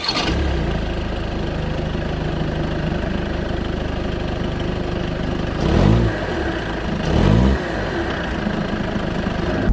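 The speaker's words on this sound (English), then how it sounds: "it definitely does have quite a loud sort of diesel idling noise" A VW Golf GTD MK7.5 diesel engine idles close by with a steady, clattery drone, broken by two short blips of revving near the end.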